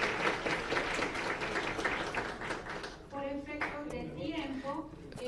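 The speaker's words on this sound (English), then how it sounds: "Please, a round of applause for panelists." An audience at a conference session on implementing the Sendai disaster-risk framework applauds the panelists, a sustained patter of clapping that thins out after about three seconds as voices take over.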